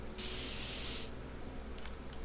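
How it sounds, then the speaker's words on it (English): A spray paint can in a video game gives one steady, close hiss lasting about a second, and two brief faint puffs follow later. "Lata de spray. Spray paint."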